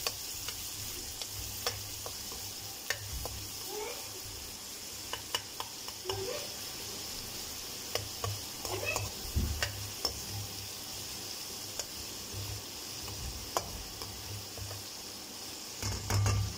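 Three medium onions, finely chopped, sizzle softly in a pan as they are sautéed and stirred, with faint scraping ticks from the spoon and no talking.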